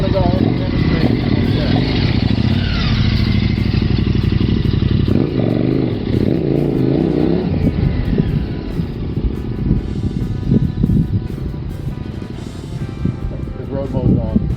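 A motorcycle engine runs loud and close, rumbling and revving as the rider accelerates and then brakes with the front brake, over and over. Its pitch rises and falls throughout, and a person talks over the engine the whole time.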